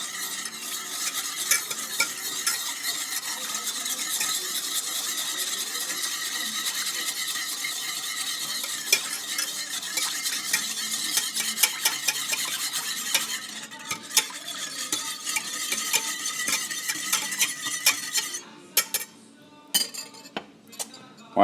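Sugar being stirred into a Carolina coleslaw dressing, a spoon whisking and scraping rapidly and continuously against a bowl, close and busy, slowing into a few separate clinks at the end.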